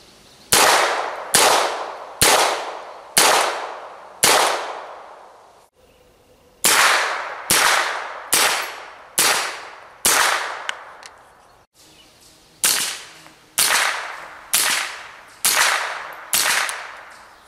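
Unsuppressed gunshots from 45-grain South African heavyweight rounds, sixteen sharp, loud reports fired at a steady pace of about one per second in three strings, each with a short ringing decay and brief pauses between strings.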